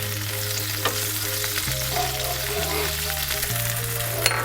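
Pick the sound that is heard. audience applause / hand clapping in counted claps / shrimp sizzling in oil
shrimp sizzling in oil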